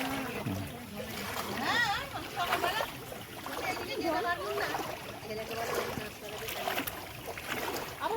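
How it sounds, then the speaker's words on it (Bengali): Water sloshes and splashes through a rain-flooded street, moving in uneven waves up close while a person talks over it. "এই যে পুরো গলি রাস্তা জলে ডুবে আছে"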